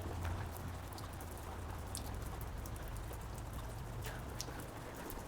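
Steady rain falls outdoors as a continuous, even patter of drops, with occasional brighter drips hitting a surface, alone with no voices.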